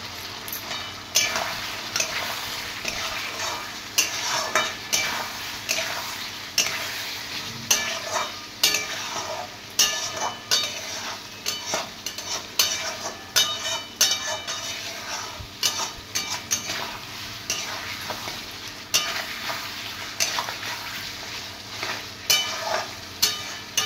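Spiced masala with sour curd being sautéed in a pan for vegetarian potato alur dum: a low, continuous sizzle broken by repeated, evenly spaced spatula scrapes and stirring strokes, with no talking.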